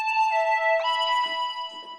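An Omnisphere synth lead with half-wet reverb and pre-delay, a sustained tone stepping down in pitch, then a delayed wash of reverb blooming behind it like an echo, alone.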